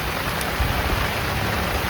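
Heavy rain drums down in a steady, dense roar of drops, close by, with a few faint knocks beneath it.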